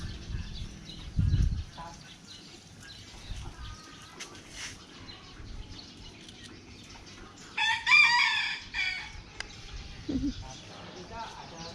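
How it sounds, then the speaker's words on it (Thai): Chickens feeding behind a house, with clucks and a burst of rooster crowing rising briefly over a quiet yard while a person talks softly in between. "ข้างหลังก็มีไก่กำลังกินกันอยู่เลย"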